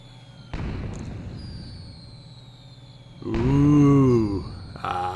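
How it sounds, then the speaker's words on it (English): Fireworks bursting in the sky of the N64 video game Goemon's Great Adventure: a burst of crackle and pops gives way to a louder, tonal whistling flourish, followed by a short sharp tail. "Now time for our final fireworks display of the evening."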